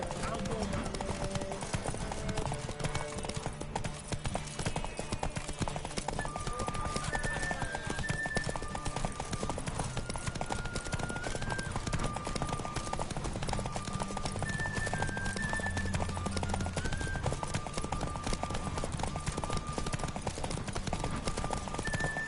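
Hooves of Roach, a horse in The Witcher game, clip-clop in a rapid, continuous galloping rhythm, with occasional whinnies and other game sounds mixed in and voices talking over it.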